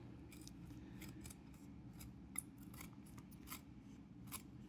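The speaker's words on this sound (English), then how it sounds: "Same thing when you're cutting this around with your scissors or your X-Acto knife" Scissors snip through leather being trimmed for a knife sheath, giving a series of short, crisp cuts at an uneven pace over a low, quiet background hum.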